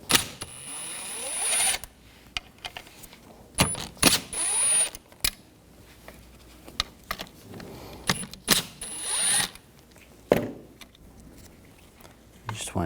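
Intermittent clicks, rattles and ratcheting bursts as screws are backed out with a T30 socket from a rear window motor of a 2000–2005 BMW X5, close up with quiet gaps between short clusters.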